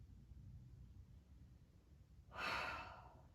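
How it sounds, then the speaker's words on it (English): A single deep, slow breath during a vocal breathing exercise, heard as a soft airy rush rising and fading after a quiet start, close to the microphone. "Breathe in and out."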